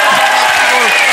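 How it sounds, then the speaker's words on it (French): A French TV game show studio audience applauds and cheers in a dense, loud, steady wash of clapping with no break. "Et c'était Jean-Marc Thibault, on les applaudit, bravo."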